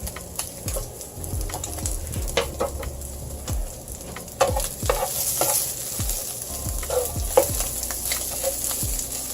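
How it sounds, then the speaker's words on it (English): Greens sautéing in a hot pan, a steady close sizzle broken by repeated scraping stirs of a utensil, with no voices. "Now I'm going to saute the greens a little bit"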